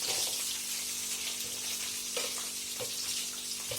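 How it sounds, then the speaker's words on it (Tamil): Ridge gourd and onions sauté together in a pan for a chutney, giving a soft, steady sizzle with a few light stirring knocks, fairly quiet and without talk. "பீக்கங்காய் வெங்காயத்துலேயும் ஒன்றா போட்டுருவோம் அப்போ நல்லா வதங்கும்"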